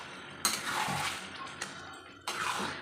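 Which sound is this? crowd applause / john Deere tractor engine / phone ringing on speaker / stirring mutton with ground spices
stirring mutton with ground spices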